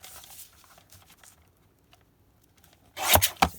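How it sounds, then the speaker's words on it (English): A gold paper envelope being cut apart with scissors, faint papery rustles and small snips, then two sharp close crisp cuts near the end, no speech. "It's actually an envelope, so I'm going to cut it apart."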